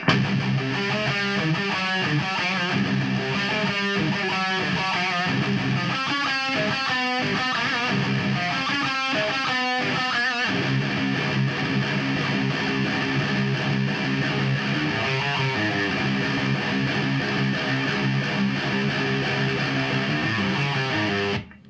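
A loud distorted electric guitar plays a chugging riff with rapid palm-muted bursts, then sustained ringing chords, continuous for about twenty seconds.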